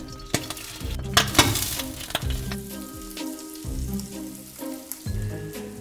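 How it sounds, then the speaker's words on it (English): Food sizzles and crackles in margarine in a hot pan, with irregular pops and occasional scraping or stirring sounds throughout. "you can stay safe when frying with margarine"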